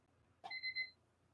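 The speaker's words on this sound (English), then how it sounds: "If you hear the beeping sound, that means time is up." A quiet electronic timer sounds a short triple beep to signal that time is up, following a soft click, with low background hum and no talking.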